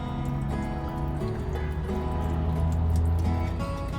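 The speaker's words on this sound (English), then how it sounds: "you want to let that drain out before you go ahead and loosen the filter housing cap" Diesel fuel draining from the fuel filter housing of a 2012 Ram 2500 with a 6.7L diesel into a pan, a steady continuous trickle and splash, close and constant throughout.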